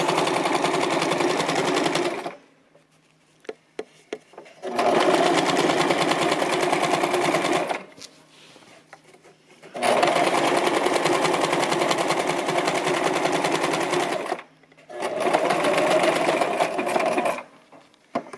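A Brother LX-3125 sewing machine runs around the edge of an apron in three long, steady stretches of close, whirring stitching separated by short quiet pauses.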